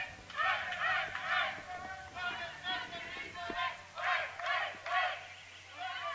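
Italian and Slovenian supporters cheer loudly in bursts at a junior individual archery medal match, rising and falling in repeated waves of shouting and whooping.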